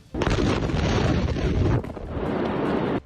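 A warehouse explodes into a fireball, a sudden loud blast that roars on for over a second, drops briefly, then continues as a sustained rumbling burn before cutting off, with no voices.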